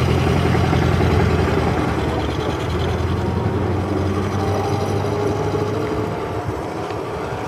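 A 1930s pre-war car engine running at Brooklands, with a steady low rumbling drone throughout, close and fairly loud, with no voices.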